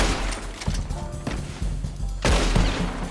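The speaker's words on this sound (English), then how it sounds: "Oh, they just started shooting kids." Gunfire in the Red Dead Redemption 2 game, several loud close shots and booming thuds in quick irregular succession, with a heavy blast near the end.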